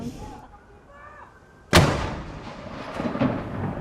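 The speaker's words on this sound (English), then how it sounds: "96 guns rang out from Edinburgh down to Gibraltar, one for every year of the Queen's extraordinary life." Ceremonial gun salute fired for Queen Elizabeth II, one sharp, loud artillery boom at under two seconds whose echo rolls and fades, following a quieter stretch with faint distant sounds.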